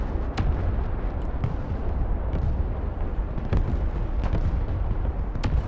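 Mortar and artillery fire in the video game Broken Arrow, with repeated sharp booming blasts at irregular intervals over a dense, continuous rumble of battle noise.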